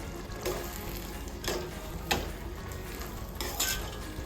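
Goan sweet rice with cardamom powder is stirred in a pot over low gas, giving soft periodic scraping and clinking strokes about once a second, close by and fairly quiet, with no talk.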